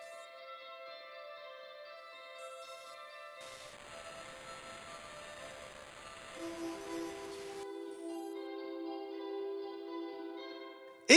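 A free reverb plugin soloed during mixing, a spring-style reverb on a synthetic tone, rings out as sustained tonal layers with a dense wash of diffuse noise swelling in the middle, then settling into a lower held tone, with no talking.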